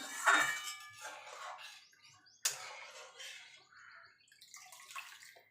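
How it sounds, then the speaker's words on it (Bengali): Water poured into a pan while cooking fish curry, a bright splashing gush at the start and a second sharp pour midway, fairly quiet with a little trickling between. "এবার দিয়ে দেবো জল।"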